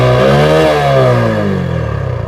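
Newly bought motorcycle engine revved close up, one loud blip climbing then falling back toward a rough, pulsing idle.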